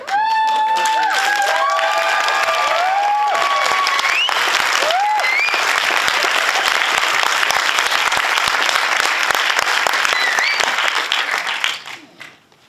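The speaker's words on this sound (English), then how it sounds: "I want you to take this round of applause, because you bloody deserve this" A live comedy show crowd at a sitcom pilot Q&A erupts in loud applause and whoops, with cheering voices rising over dense clapping that fades out near the end.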